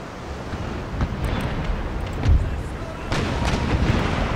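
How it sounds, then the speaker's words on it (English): Ship cannon broadsides in the video game Empire: Total War thud as low booms amid a continuous wind-like rumble of battle, with a heavier blast near the middle and more fire toward the end. "we can hopefully get a couple of broadsides going across as well"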